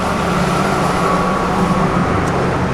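A 1967 Chevrolet Camaro convertible's engine, with Muncie 4-speed manual and HEI distributor, runs at a steady, loud idle close by, a constant low rumble with no speech.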